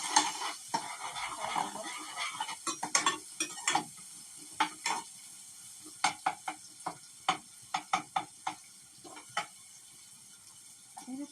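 Ingredients frying in a pan on a live cooking show, with a steady low sizzle under a run of sharp, irregular scraping clicks as a utensil stirs against the pan, fairly close and moderately loud.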